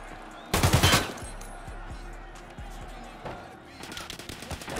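Gunfire in the Tarkov Arena game: a loud burst of rapid automatic shots up front, then scattered single cracks and a second flurry of shots near the end, with no talk.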